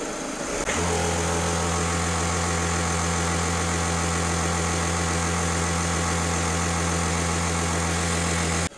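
A VW Passat B7 1.6 TDI diesel engine kicks up abruptly and holds a steady, loud, humming drone at raised revs, heard close with no talk over it.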